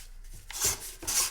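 A Festool sander running at low speed on wooden stairs during refinishing, giving a rough rasping rub that swells in two strong passes over about a second, heard up close with no talk.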